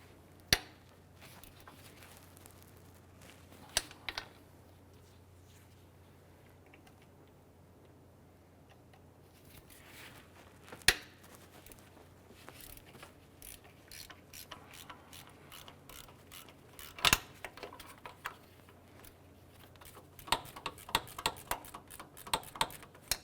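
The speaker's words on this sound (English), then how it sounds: "Using a 12mm gear wrench, we're going to go ahead and loosen this nut right here on the power steering pump." A 12mm ratcheting gear wrench loosens a nut on the power steering pump of a 2001-2005 Honda Civic, giving faint, sparse ratchet ticks and clicks that become more frequent toward the end.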